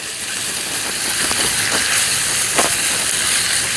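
Seasoned perilla sprouts stir-fried in a pan over medium heat with onion give a steady close sizzle and hiss, broken by a few short scraping stirs, with no talking.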